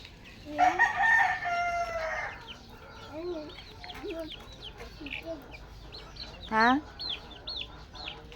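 A rooster crows loudly nearby in a backyard vegetable garden, with another crow and scattered clucking from chickens following, while people talk faintly in Filipino in the background.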